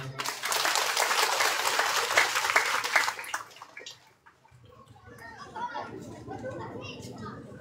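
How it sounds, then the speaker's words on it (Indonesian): A crowd at a funeral gathering applauds the commander with a dense burst of clapping for about three seconds, then it dies away into quieter murmuring and scattered voices. "Mari kita semua tepuk tangan untuk Komandan."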